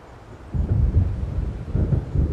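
Deep rumbling thunder from an approaching storm in Alan Wake rolls in after a quiet start, a loud sustained low roar with no voices.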